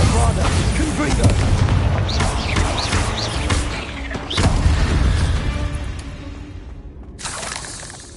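Explosive spell blasts from Bombarda and Confringo in the video game Hogwarts Legacy, deep booms and crackling bursts over dense, busy combat noise, ending with a sharp crash.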